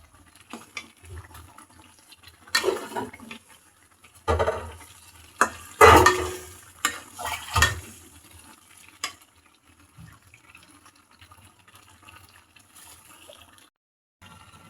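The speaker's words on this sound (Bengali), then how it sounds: "এবার দিয়ে দেব আদা এবং রসুন বাটা আমের আচারের মধ্যে।" Ginger and garlic paste is stirred into a mango pickle, with a few bursts of scraping and wet mixing clustered in the middle and long quiet gaps around them.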